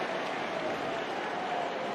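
Football stadium crowd at the Arsenal vs Chelsea League Cup final applauding, a dense, steady wash of clapping from many hands, moderately distant and continuous.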